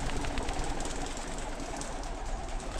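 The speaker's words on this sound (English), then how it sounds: "You can hear them all flapping around." Pigeons cooing and flapping inside an abandoned pottery factory, a steady diffuse rustle with soft coos against a hollow, noisy indoor background, no voices.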